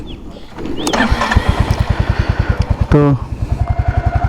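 A muddy motorcycle just back from off-roading is started outside a resort, catching with a rising rev and settling into a loud, close, rhythmic putter, with a voice briefly heard.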